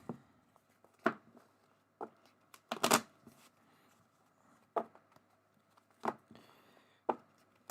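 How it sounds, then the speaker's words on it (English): Cargo cards for a space-themed board game being shuffled, a series of short papery riffles and taps at irregular intervals, one louder burst in the middle, close and fairly quiet with no talking. "Then we shuffle all of this together."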